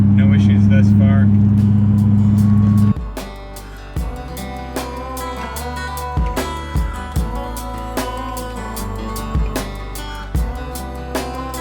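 A Duramax pickup truck drives on the road, a loud engine drone that drops after a few seconds into a quieter rolling hum with intermittent knocks and clicks, while someone talks over it.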